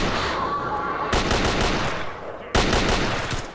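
Gunfire from enemy combat in the shooter video game Radiophobia 3: loud, close bursts of rapid automatic fire, broken by a short pause before a second sharp burst, with no talking.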